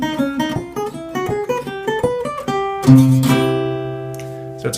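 Jazz guitar soloing over Coltrane substitution changes with typical 1-2-3-5 patterns, a quick run of picked single notes ending on a sustained, ringing chord that fades out.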